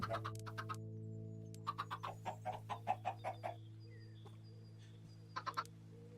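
Chickens cluck in a video game farm, a series of short rhythmic clucks in two bursts over a steady low game-music drone, moderately faint with no talking.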